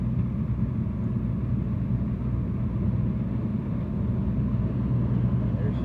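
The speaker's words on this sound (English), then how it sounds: "and the combine, if you can't hear the rumble" A combine harvester rumbles steadily during a corn harvest, a continuous low, heavy drone that holds even in loudness throughout, with a faint hint of voices underneath.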